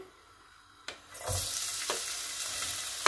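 Chopped onion drops into a hot pan and bursts into a bright, hissing sizzle that keeps crackling steadily, with a few soft stirring clatters, no voices.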